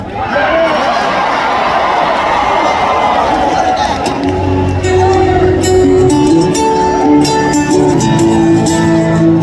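A large crowd at a live concert sings along loudly together, a dense mass of voices carrying a sustained melody, with cheering and chatter mixed in near the start.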